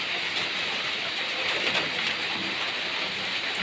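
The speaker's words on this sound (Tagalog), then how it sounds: "Parang masahol pa sa bagyo yung ulan." Heavy rain pours down in a dense, even hiss that runs steady and fairly close throughout, with no voices over it.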